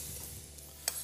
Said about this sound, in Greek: Ανακατεύω τις μελιτζάνες. Θα τις σαλατίσω μόλις τηγανιστούν.